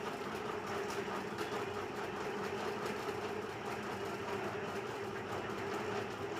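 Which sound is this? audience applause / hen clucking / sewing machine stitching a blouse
sewing machine stitching a blouse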